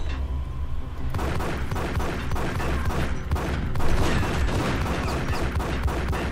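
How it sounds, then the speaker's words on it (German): Rapid gunfire rattles through the Max Payne video game in a steel-mill level with smelting furnaces, dense overlapping shots and crashes forming a continuous loud barrage. "Und ich schieße ja auf das Geländer."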